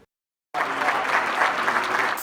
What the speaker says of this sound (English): Thunderous applause for the charismatic man who appeared to possess the Midas touch